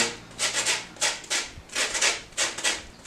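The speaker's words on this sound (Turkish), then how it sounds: "Rendenin özellikle işte bu ince bölümüyle rendelemenin avantajı bunlar" Lemon rind rasps across the fine side of a hand grater in quick repeated strokes, about six bursts in a steady rhythm, close and fairly soft with no talk.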